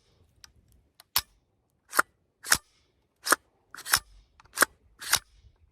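Hoffman Tactical Super Safety trigger on an empty firearm, pulled and resetting: a series of about eight sharp, close mechanical clicks at irregular intervals, crisp and alone without talk.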